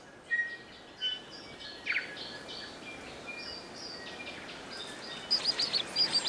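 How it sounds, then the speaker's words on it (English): Birds sing and chirp from a distance in New Zealand's Abel Tasman region over a steady hiss of background, with scattered calls and a brighter burst of trilling notes near the end. "The birdsong in this region"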